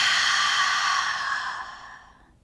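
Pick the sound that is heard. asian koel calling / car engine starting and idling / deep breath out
deep breath out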